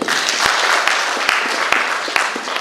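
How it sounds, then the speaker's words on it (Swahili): Congregation applause at a Kikuyu Sunday church service, a loud, dense wash of many hands clapping continuously, with a few sharper claps standing out now and then. "Tuwapigie makofi."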